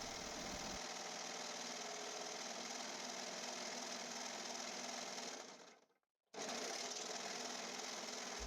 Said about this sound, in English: I just overlock those pocket edges